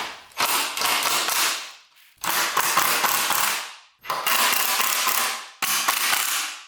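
A power driver runs screws into a custom truck grille on a Ranger in four loud, close bursts of whirring and ratcheting, with brief pauses between them.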